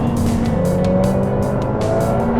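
A Ferrari F8 Tributo's 720-horsepower engine roars steadily, climbing in pitch as it accelerates hard on a race track, with rhythmic bursts of high hiss riding over the continuous drone.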